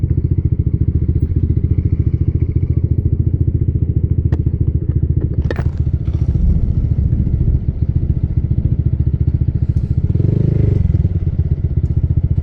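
Motorcycle engine idling and running on a Montemaria ride in Batangas, a steady close rumble throughout with a few thumps and clatters, swelling briefly louder near the end.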